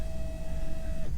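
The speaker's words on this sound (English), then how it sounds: "Verify that the fuel pump primed" The fuel pump on a 1997–98 C5 Corvette primes after a PCM swap, making a steady electric whine and hum that runs for about a second and then stops, close by and moderately loud.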